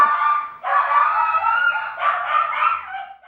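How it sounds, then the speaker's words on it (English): Dogs barking indoors, a loud, close series of drawn-out, whiny yelping barks in a few connected bursts with no talk. "Of course, my dogs are barking."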